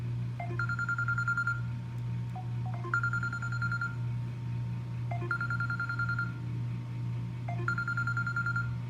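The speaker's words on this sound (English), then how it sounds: "show you the volume of the ringtone or the phone" A Samsung Galaxy J7 phone ringtone repeats a short electronic melody in regular cycles about every two and a half seconds, steady and moderately loud over a low hum.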